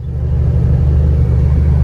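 A Grand National with a broken turbo drives along at a steady pace, its low engine and road rumble droning loud and continuous throughout with no voices.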